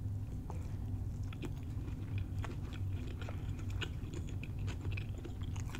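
A close bite of a New Orleans style catfish po boy sandwich being chewed, with crisp, crunchy mastication and small irregular crackles repeating steadily, no talking.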